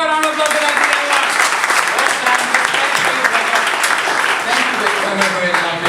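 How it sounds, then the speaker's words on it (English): A crowd at a startup summit breaks into loud, sustained applause, a thick, continuous roar of clapping with cheering voices and talk mixed in throughout. "Can we have a round of applause for that,"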